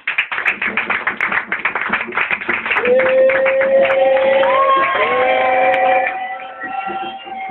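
A church congregation acclaims loudly, clapping rapidly and shouting at first, then breaking into sustained whoops and high cheering voices before fading slightly.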